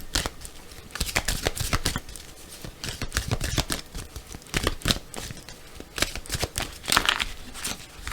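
Amethyst Love tarot cards being shuffled by hand, giving repeated crisp riffles and snaps in an irregular rhythm, close and moderately loud, with no voice over them.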